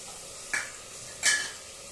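Onion, garlic and ginger frying in a pan with turmeric added, a low steady sizzle broken by two sharp clinks of a spoon against the pan.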